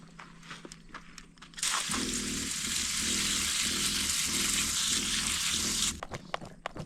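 Running water from a tap pours steadily over freshly picked raspberries being rinsed, a loud broadband rush lasting about four seconds with a low rhythmic splashing beneath, starting and stopping abruptly amid quieter kitchen handling noises.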